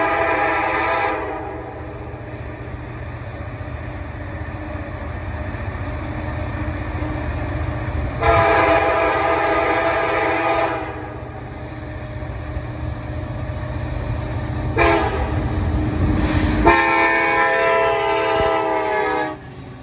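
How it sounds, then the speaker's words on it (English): CP freight train 447 on BNSF's Hinckley Sub rumbling past steadily for about twenty seconds, with several loud, sustained horn blasts sounding over the continuous roar of the cars. "We're just north of Ascove, set up for CP train 447"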